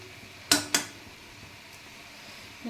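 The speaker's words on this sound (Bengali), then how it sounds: "শাকে একটু খুন্তি দিয়ে নেড়ে দিলাম" A metal spatula stirs boiled greens in a cooking pan, giving two sharp, close clanks in quick succession, followed by a quiet, faint background hum.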